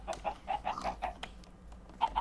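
Minecraft chickens clucking in a series of short, evenly spaced bursts, fairly close and clear over a low background hum, with a couple of louder clucks near the end.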